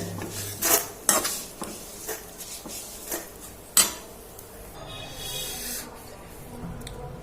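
Metal utensils clatter and scrape against a kadhai as roasted ingredients for millet laddus are moved onto a plate, with several sharp clinks spaced out over a quieter background hiss.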